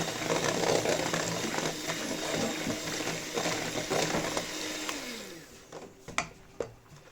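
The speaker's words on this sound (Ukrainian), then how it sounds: "Мені міксером легше, то я збиваю міксером." Electric mixer whisking crepe batter in a bowl, a continuous loud whirring drone that slows and stops near the end, followed by a few clinks and knocks.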